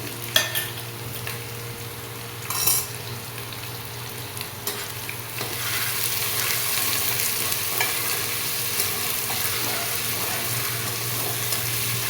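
Potatoes and chopped onions sizzle steadily in a hot pan, with a brief stirring clatter early on and a constant frying hiss throughout, close and fairly loud.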